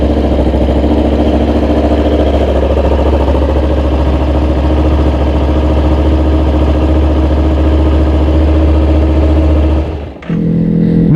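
A Kawasaki Ninja 250 FI motorcycle engine runs steadily at idle after a starter bendix replacement, a loud, close, continuous low rumble that cuts off abruptly near the end.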